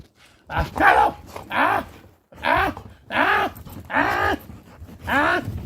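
A dog barks during a live puppet show, with about six loud, close barks in uneven pairs separated by short pauses.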